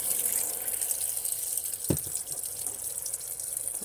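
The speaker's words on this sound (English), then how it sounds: "Putting the clean warmer water in with some laundry detergent." Warm water runs steadily from a tap into laundry with detergent inside a camper van, a continuous rushing pour with one brief louder splash midway and no talking.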